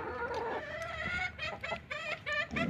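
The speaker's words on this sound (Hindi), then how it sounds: "बच्चे खुद भी खा रहे हैं, मुर्गियों को भी खिला रहे हैं।" Farmyard chickens cluck and squawk in a busy, overlapping flurry while being fed pieces of roti bread by a village kitchen hearth, the calls close and fairly loud with no talk.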